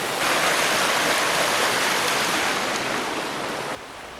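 A strong river current rushes past a mountain campsite in the Sierra Nevada, a loud, dense, continuous roar that drops slightly near the end.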